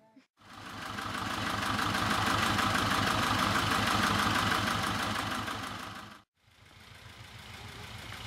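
A tractor engine idles loudly and close with a steady, throbbing low rumble, dropping out briefly before starting up again for the last couple of seconds.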